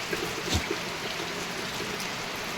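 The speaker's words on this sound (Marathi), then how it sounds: "पाऊस चालू आहे बघा" Heavy monsoon rain in Jalna district, a dense steady hiss of downpour with a faint thump near the start, heard alone.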